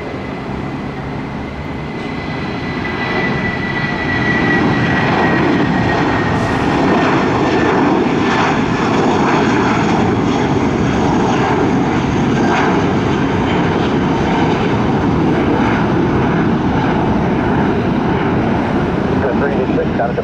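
A Spirit Airlines airliner lands at Tampa airport. A loud, continuous jet roar and rushing noise builds and holds steady throughout, close and dominant.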